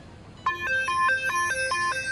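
Mobile phone ringtone sounding during a live broadcast of the 2016 Miss USA pageant, a bright repeating electronic melody of quick tones that starts abruptly and continues steadily.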